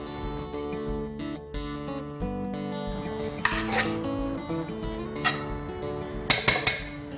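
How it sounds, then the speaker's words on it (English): A spoon scrapes and stirs a paneer, grated cheese and coriander filling in a bowl, with repeated rasping and clinking strokes, close and fairly loud, alone without talk. "Mix all these ingredients together."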